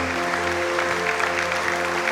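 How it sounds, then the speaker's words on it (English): Wedding guests applauding after a ceremony blessing, a steady wash of clapping lasting about two seconds over a low, sustained musical drone. "We're going to give them a round of Aussie applause."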